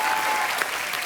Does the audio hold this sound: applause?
yes